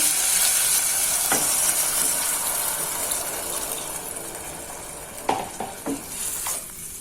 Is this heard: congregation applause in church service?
no